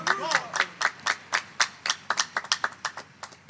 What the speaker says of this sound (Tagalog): Isang malakas na palakpak uli sa ating dakilang Diyos sa buhay